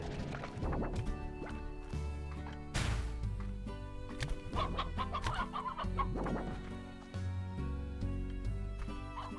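Chickens in the Slime Rancher video game clucking repeatedly at close range over a steady game soundtrack, with a sharp thwack partway through.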